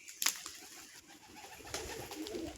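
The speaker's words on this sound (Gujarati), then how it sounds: "તો હજી ઘણા કબૂતર બેઠા છે, ઘણા કબૂતર નીચે છે।" Pigeons perched together in a roost where eggs have been laid, giving soft intermittent cooing with a sharp flutter near the start and a light background murmur.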